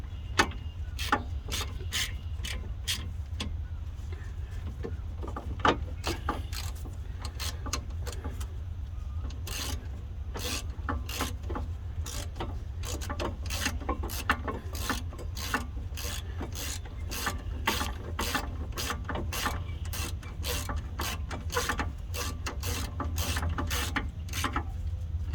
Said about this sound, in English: And return back to the ratchet to tighten these down with